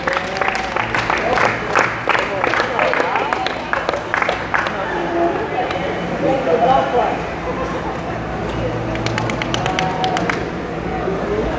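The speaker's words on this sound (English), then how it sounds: "let's give a round of applause" An audience at a Bible talk gives a round of applause as a crowd murmur continues under it. Clusters of claps stand out near the start and again late, while voices talk throughout.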